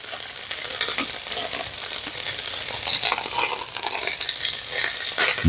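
Corned beef hash crisps in a hot pan with a steady, dense sizzle and crackle that swells slightly, ending with a brief clank, no voices.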